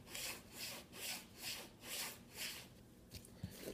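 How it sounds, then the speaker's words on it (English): A vinyl record sleeve edge rubbed back and forth against denim jeans to loosen the opening, six or seven steady rhythmic scraping strokes close to the mic, then a few small handling taps, no talk. "rubbing the edge of the vinyl against my jeans to create friction to help open up the edge of the vinyl"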